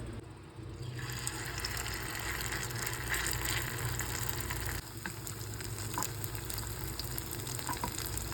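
An eggplant omelette mixture of eggplant, sardines, flour, egg and breadcrumbs frying in a pan, giving a steady, close, dense sizzle that runs unbroken throughout with no talking.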